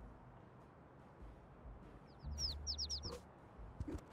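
Short bursts of bird chirps from a bird in the cat video game Little Kitty, Big City, a quick run of bright tweets over a faint low background, followed by a soft thump.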